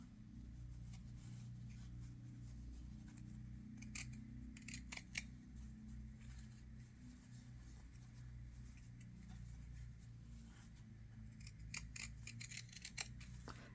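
Scissors cutting fabric for a button patch, with scattered sharp snips in small clusters over a faint low background hum, close and quiet.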